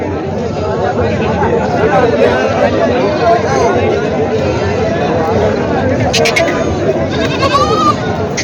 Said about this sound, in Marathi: गावरान बकरा आहे मित्रांनो